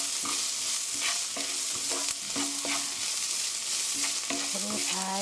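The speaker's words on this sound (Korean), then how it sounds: "이렇게 해서 한번 볶아주시고요" Onions sizzling and being stirred in a hot pan for a cabbage omelette, a steady loud frying hiss with repeated scraping and clinking of a utensil against the pan throughout.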